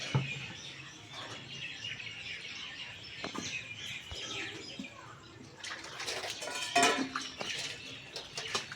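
Dishes being washed: clinks of pots and utensils with splashing water, growing busier toward the end, while birds chirp faintly in the background.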